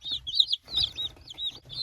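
Young chickens, cockerels and hens, cluck and peep close by in quick, short, high-pitched calls that overlap in a busy run of chirps.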